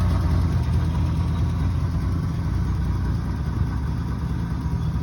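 A Datsun 280Z engine idling steadily after a valve cover refresh, a constant low, even rumble heard close and alone throughout.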